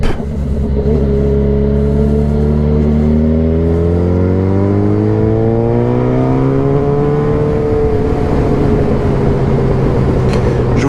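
A Yamaha FZ8 motorcycle exhaust rises in pitch as the bike accelerates through the gears while riding, a loud, continuous engine drone with steady wind noise.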